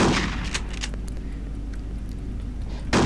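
A shotgun blast from the game Hitman: Codename 47 rings out near and loud, then decays into a long echoing tail before a second blast begins at the very end.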